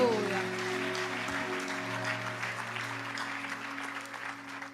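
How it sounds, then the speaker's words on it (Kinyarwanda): A church congregation applauds in praise of God, a dense, steady patter of many hands clapping at once, sustained over a low hum and faint background voices. "Tuyikomera amashyi menshi cyane."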